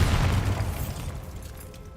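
A Bombarda spell detonates in Hogwarts Legacy, a deep booming explosion that starts loud and rolls away, fading over a couple of seconds with no voices.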